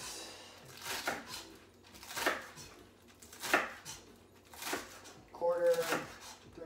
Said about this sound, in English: I'm chopping the kale into